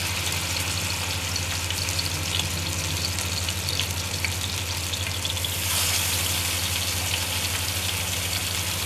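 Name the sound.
chapli kebab frying on a tawa griddle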